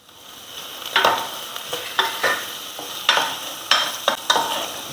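Crushed ginger-garlic and slit green chillies fry in a pan for wheat rava kichadi, a constant sizzle broken by several bursts of stirring as the spatula scrapes through the oil.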